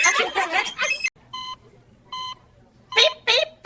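A parrot imitates electronic beeping, giving two short, evenly spaced bleeps in the middle that sound near and moderately loud, with speech and laughter just before and after them.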